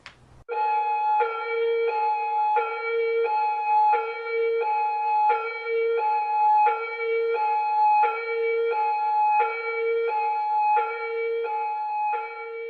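A steady two-tone ambulance siren alternating high and low in an even rhythm, loud and continuous throughout with no talking.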